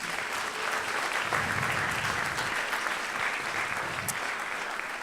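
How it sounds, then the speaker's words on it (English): Steady applause from a conference audience, dense and sustained clapping throughout with no voices standing out. "please give him a really huge round of applause"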